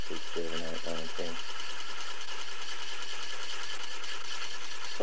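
Small spinning motor in a back-EMF capacitor-charging setup turning at a few hundred revs, a continuous steady buzzing hum with rapid even pulsing, and a voice speaking briefly at the start.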